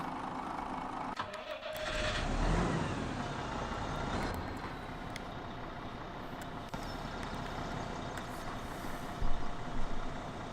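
Lorry driving away from a farm, its engine a low, steady, fairly faint rumble with a slight surge near the end; no one speaks.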